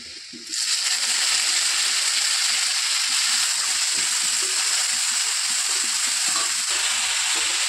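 Roti cooking in oil in a kadai gives a loud, steady sizzle that starts abruptly after a brief quiet moment and then runs continuously, close up, with no talking over it.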